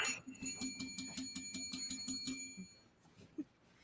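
A small bell rings in a quick, steady series of bright dings for about two and a half seconds, then stops, leaving a quiet tail with a faint thump.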